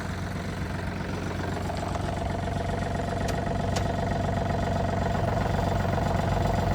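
Yanmar AF222 tractor engine running steadily close by, a constant mid-to-low drone that stays level without a clear rise in revs.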